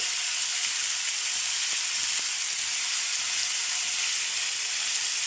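Sliced potatoes and pointed gourd fry in hot oil with a steady, dense sizzle, a constant bright hiss close by with a couple of faint knocks and no talk.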